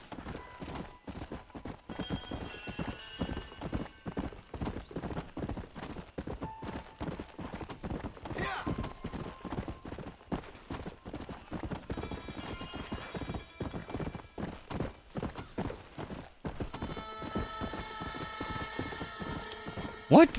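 Horse hooves clip-clopping at a steady trotting rhythm in the Western game Red Dead Redemption, continuous and fairly close, with a brief whinny and game music tones rising near the end.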